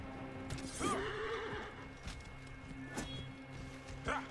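A horse whinnies loudly in the video game Assassin's Creed Origins, followed by hoof clip-clops and brief clatter, with a second, shorter whinny near the end.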